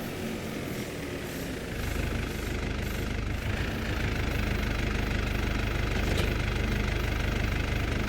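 A 147-horsepower tractor engine running steadily at a loud, low, continuous drone with a faint rise in level partway through.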